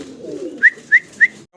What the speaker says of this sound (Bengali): চমৎকার এক জোড়া কবুতর দেখাচ্ছি, হোয়াইট বার।